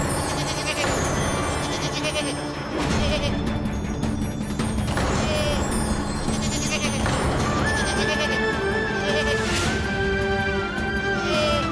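Sheep bleating repeatedly over loud, continuous music and a busy festival crowd at a traditional story procession, with the animal cries fairly prominent among the din.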